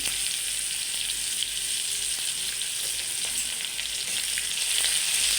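Steady, loud sizzling of cumin, dried chillies and chopped onion frying in hot oil, continuous throughout with faint stirring scrapes and no talk.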